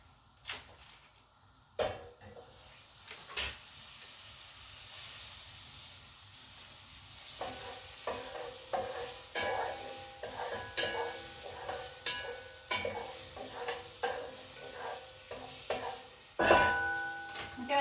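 Butter sizzles in a hot pan while a baked mostaccioli sauce cooks, a steady frying hiss broken by several sharp clacks and stirring knocks that grow busier and louder toward the end.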